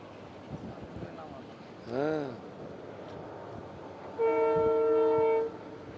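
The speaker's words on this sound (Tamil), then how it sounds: "இப்போ கரெக்டாக ட்ரெயின் வருது பாருங்க சென்னை வண்டி பாமன் பாலத்தில் வந்துக்கிட்டு இருக்குது" A passing Chennai-bound train rumbles across the Pamban bridge in strong storm winds, with a brief horn blast and then a longer, loud horn tone near the end.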